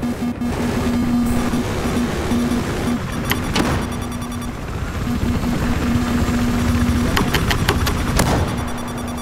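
A helicopter's rotor and engine in the video game Battlefield 4 drone steadily and loudly throughout, with a constant rhythmic thrum and occasional sharp bangs layered over it.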